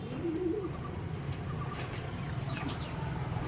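A male Omani teddy pigeon gives soft, low coos close by over a steady background hum.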